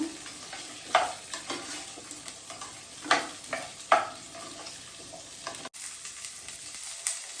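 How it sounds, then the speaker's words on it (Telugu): Green chillies fry in oil for an egg kurma, giving a quiet steady sizzle broken by a few louder scraping stirs, close by, and a brief clunk near the end. "ఈ ఆయిల్ అనేది యాడ్ చేసుకున్నాం మనం. ఇవి కొంచెం ఫ్రై చేస్తున్నాము"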